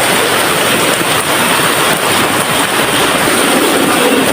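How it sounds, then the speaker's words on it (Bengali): Heavy rain pouring down hard, a loud, dense and unbroken roar that fills the whole stretch with no voices heard. "বৃষ্টিও পড়তেছে প্রচুর প্রচুর জোরে জোরে বৃষ্টি হইতেছে"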